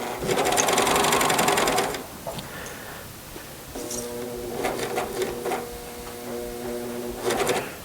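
A sewing machine stitches a T-shirt seam in a loud rapid burst, then runs in slower, quieter bursts of stitching with a rhythmic mechanical whir and a final quick run, with no voices.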